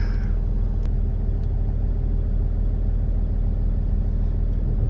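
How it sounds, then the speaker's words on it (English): A car engine idles steadily while warming up before pulling out an RV, a constant low rumble close by with no talk over it. "the car is warming up"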